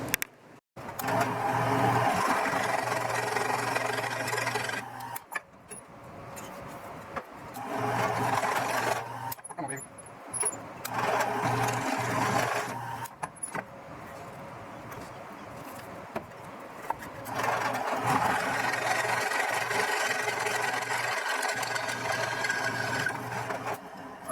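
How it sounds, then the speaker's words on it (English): A drill press drilling metal whirs in several bursts separated by short pauses, a steady buzzing drone recorded close, with occasional clicks between runs. "Got to go drill these two on the drill press."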